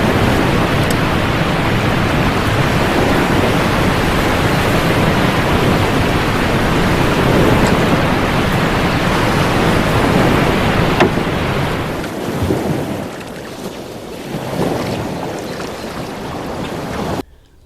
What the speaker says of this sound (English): we're going to pretend that there's a flood at my house